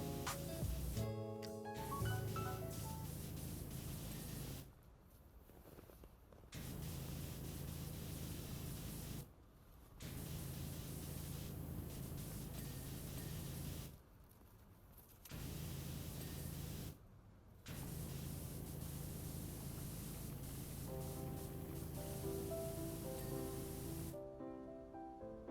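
A pressure washer sprays in the Powerwash Simulator video game as a loud, broad hiss in long bursts. Short silent gaps break the spraying where the trigger is released.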